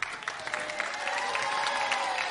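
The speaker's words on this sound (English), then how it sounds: "You guys get applause for not doing any work at all." A game show studio audience claps in a dense, steady burst of applause lasting a couple of seconds, close and moderately loud with no talk over it.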